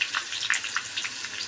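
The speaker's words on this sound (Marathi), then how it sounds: "आपली मिरची मस्त तेलामध्ये आपण फ्राय करून घेतलेली आहे." Green chilies frying in hot oil, a steady bright sizzle with small crackling pops scattered irregularly throughout, fairly close and soft, with no talking.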